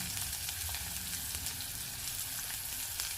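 Cut red chillies and onion frying in a pan give off a continuous, dense sizzle that holds at an even level throughout, close to the microphone.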